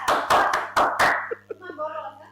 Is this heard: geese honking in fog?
no